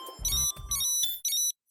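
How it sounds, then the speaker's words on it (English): A cellphone ringtone from the PS3 game Hyperdimension Neptunia Mk2 plays as a loud, bright electronic melody of repeated short chimed notes, cutting off briefly near the end. "It's a phone call from Histy."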